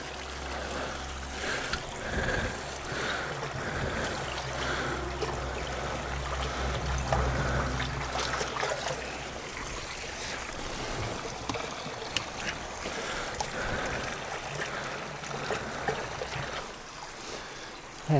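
Silty water rushes steadily out of a microhydro turbine's silt filtration system, a constant close gushing flow with faint splashes and no talk.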